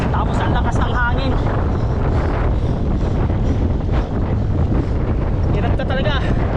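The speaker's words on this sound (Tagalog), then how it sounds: "Tapos ang lakas ng hangin" Strong wind buffets the microphone near a river on a bicycle ride toward Dipalo Falls in San Quintin, Pangasinan, a loud constant roaring rumble with voices shouting intermittently over it.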